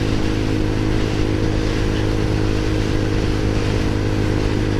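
XPro Roadster X24 motorcycle on the highway, its engine droning steadily and loudly at cruising speed with constant wind rush, close up and unbroken throughout.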